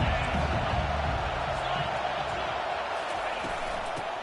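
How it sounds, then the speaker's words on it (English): A football stadium crowd roars in a broad, steady wash of far-off cheering and murmur, with an announcer's voice faintly over it. "This crowd rising up,"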